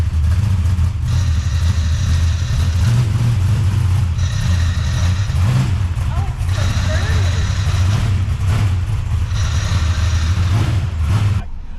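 The Odette Racing Camaro race car runs its engine at Pacific Raceway in Kent, a loud steady low rumble with pulsing rises in revs, heard up close throughout.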